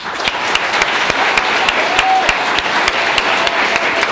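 Audience at a Thunder Bay, Ontario town hall applauds its speakers, a dense, steady wash of many hands clapping with a few sharp, close claps standing out throughout.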